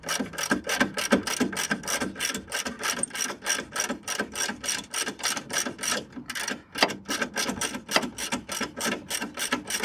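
A ratchet wrench loosening a 17mm shock bolt on a Miata, a fast run of close, sharp clicks in bursts with short pauses between strokes.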